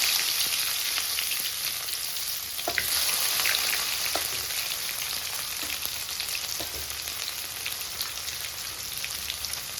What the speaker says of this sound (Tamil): கடுகு, வெந்தயமாக நல்லா பொரிஞ்சிக்கணும். சின்ன வெங்காயம் சேர்த்துக்கலாங்க.